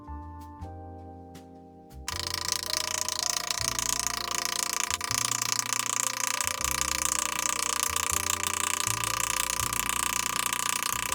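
After a brief musical intro, a steady, dense run of rapid metallic hammer taps on an aluminum foil ball continues without pause, close and fairly loud.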